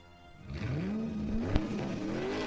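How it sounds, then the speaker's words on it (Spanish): Sound effect of a car driving fast in a chase, its engine note rising steadily in pitch as it accelerates, loud and close, with a brief sharp knock midway and no talk. "Ella manejaba muy rápido."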